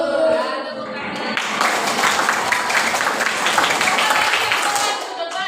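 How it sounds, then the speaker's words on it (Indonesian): Applause from a classroom of students breaks out after a short opening and carries on as a steady, fairly loud patter of many hands until the end. "Ya, tepuk tangan."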